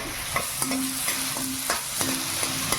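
Onion masala for dhaba-style shahi paneer roasting in a pan on a medium flame, with a steady hiss of sizzling oil and around seven rhythmic spatula scrapes, close and clear, with no voices.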